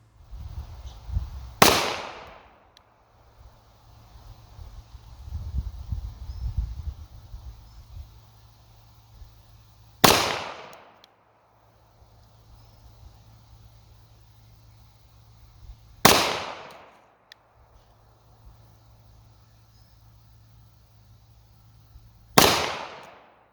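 Four sharp handgun shots from a Springfield XD 9mm fired at a 50-foot target range. Each loud crack stands alone, several seconds apart, with faint shuffling noise in the gaps.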